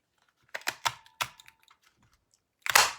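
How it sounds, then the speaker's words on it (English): A paper punch cuts a scalloped oval label from specialty paper: a few sharp clicks and clacks near the mic, then one loud final crunching snap. "It definitely punches, that was loud"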